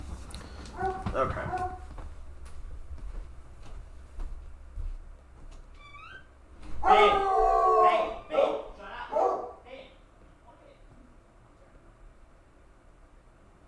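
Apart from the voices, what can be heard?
coonhound dog barking and howling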